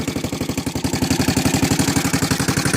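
A cheap used Kawasaki KLF ATV engine runs with a rapid, even chugging pulse and a rattly exhaust note, loud and close, alone without voices.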